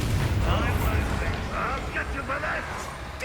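A Bombarda explosion spell goes off underground in the video game Hogwarts Legacy, a loud, sustained low rumbling blast that fills the whole moment, with faint game voices mixed in.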